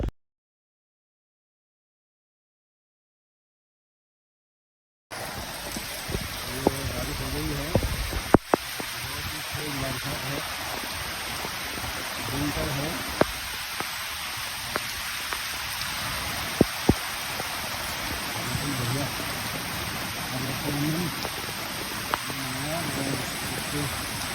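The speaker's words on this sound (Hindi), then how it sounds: "ये ज़बरदस्त बारिश हमारे जो पेड़ों के लिए जो है" Heavy rain pours down steadily at a tree-protection festival, a dense, continuous hiss that starts abruptly after several seconds of silence and carries scattered sharp drips and taps.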